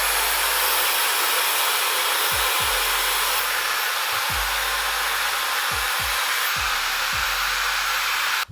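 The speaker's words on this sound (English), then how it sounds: "Diffuser is gonna go on. I'm gonna go ahead and diffuse this entire look." Hair dryer fitted with a diffuser, running on high power with low heat, gives a steady loud broadband whoosh for the whole stretch, with a few low thumps as it is moved around the hair.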